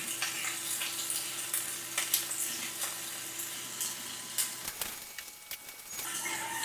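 Onions and chilies sizzling in oil in a pan as they are stirred and fried for a home-style beef curry, a continuous crackling fry with scraping clicks from the stirring and a brief lull before the sizzle returns.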